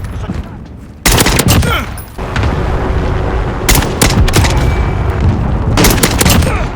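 Gunfire in a shooter video game crackles in dense bursts of rapid automatic shots and sharp booms, loud and close, with brief lulls between volleys and faint game voice callouts mixed in.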